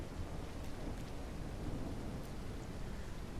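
Heavy rain pours down in a video game thunderstorm, a dense steady hiss with low rumbling thunder underneath, continuous for the whole stretch and with no talking.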